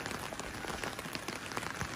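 The first rain of the season falls over the Guatemalan countryside on a May afternoon, a dense, steady patter of drops on surfaces that stays even and soft throughout, with no voices.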